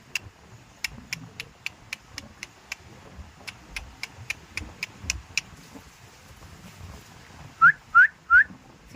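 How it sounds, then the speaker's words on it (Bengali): A person whistles in a series of short, sharp regular notes over faint background noise, followed at the end by three louder rising whistle chirps. "তুমি সিটি মারো মা, সিটি মারো"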